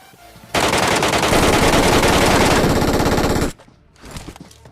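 MK14 rifle fire in the mobile game BGMI: a loud sustained burst of rapid shots lasting about three seconds, then quieter scattered game sounds.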